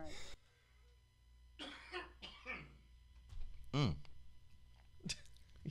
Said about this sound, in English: It causes him to cough.